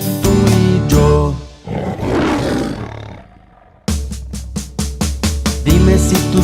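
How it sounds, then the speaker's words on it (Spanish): A lion roars in an animated Spanish-language children's song about animal sounds: a loud, deep roar rolls over bouncy musical backing, then fades before the rhythmic accompaniment returns. "Dime si tú sabes cómo hace el león."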